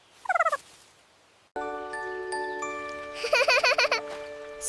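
A turkey lets out a quick, warbling gobble early on, then a second longer gobbling burst rises over a steady jingly musical backing.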